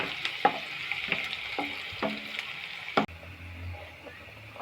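Onions and peanuts frying in a pan give a steady soft sizzle, broken by several sharp clacks of a spoon stirring against the pan, close by and with no one talking.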